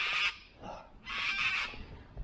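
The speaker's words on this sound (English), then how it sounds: "the birds are healthy" Geese or similar large birds honk near a suburban park beside a crescent of houses, two loud bursts of calls close by with a short softer call between them.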